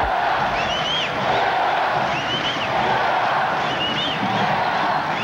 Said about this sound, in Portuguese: olha aí a torcida, ó